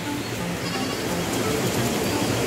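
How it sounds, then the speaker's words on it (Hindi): Goats bleat in a pahadi hill village, their cries blending into steady outdoor noise with faint voices nearby. "अरे ये दो बकरियां।"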